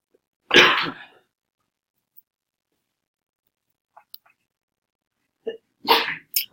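One loud, sharp sneeze close by, followed by quiet and a second, softer sneeze-like burst a few seconds later.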